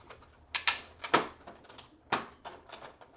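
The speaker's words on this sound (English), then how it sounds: "I'm going to go off camera to my die cutting machine." A tabletop die cutting machine cuts an otter shape from card stock, giving a series of sharp mechanical clicks and rattling bursts in irregular rhythm, close and fairly quiet with no talk.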